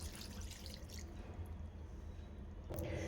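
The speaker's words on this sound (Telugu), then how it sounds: "2 గ్లాసులు వాటర్ వేసుకోవాలి." Water pours into a pressure cooker holding boti, a quiet splashing trickle that thins out midway and then swells into a fuller gush at the end.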